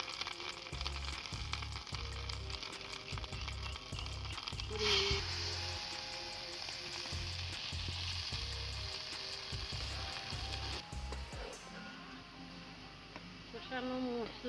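Ginger and turmeric paste fries in hot oil in a Bangladeshi-style rui fish curry, giving a steady sizzle throughout with periodic low thumps and scraping of a spoon, while a person talks over it.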